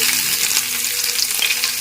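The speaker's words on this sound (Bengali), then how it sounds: "পেঁয়াজ কুচিটা দিয়ে একটু ভেজে নিচ্ছি গ্যাসের ফ্লেমটাকে কিন্তু একদম লো ফ্লেমে রেখে ভাজছি" Chopped onion sizzles in hot oil over a low gas flame for a bitter leaf-gourd mash, a close, steady frying crackle with faint stirring and no voices.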